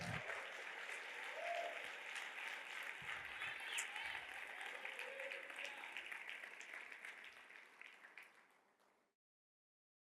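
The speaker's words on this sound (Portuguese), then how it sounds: "Alguém aplauda Jesus." A church congregation applauds steadily for about nine seconds, a dense wash of many hands clapping that tapers off and falls to silence near the end.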